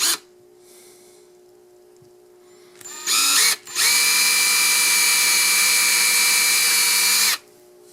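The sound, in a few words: power drill drilling pilot holes in wood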